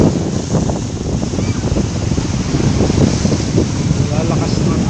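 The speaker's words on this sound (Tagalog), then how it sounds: "Lalakas ng alon." Strong high-tide waves wash steadily onto a beach at Piapi Beach Resort, a dense broad roar with wind buffeting the microphone; a voice may talk faintly beneath it.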